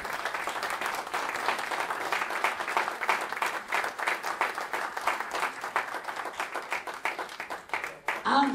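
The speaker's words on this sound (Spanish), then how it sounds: "Un aplauso para Manolo." Audience at an anniversary event applauding Manolo, a dense, sustained round of clapping from many hands, fairly close and steady, fading with a voice near the end.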